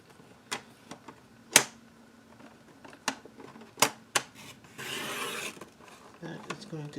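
Paper being cut down for a junk journal, several sharp isolated snips and clicks spaced irregularly, then a longer rasping slide, close and fairly quiet, with soft speech at moments.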